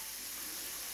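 Cod cooking in water in a covered pan, giving a steady, even hiss and sizzle throughout, close and moderately quiet, with no voices.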